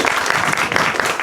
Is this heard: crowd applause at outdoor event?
yes